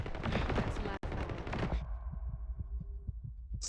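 Gunfire in a video game, heard as a burst of rapid shots under a player's talk, then a quick run of evenly spaced thuds that fades before a sharp cut.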